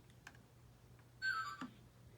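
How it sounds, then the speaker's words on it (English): Faint high electronic whistle from a Lionel toy train engine searching for its remote, a short tonal burst lasting about half a second over a low hum, with small ticks around it. "you'll see that the engine's making a whistling sound. That means it's searching for the remote"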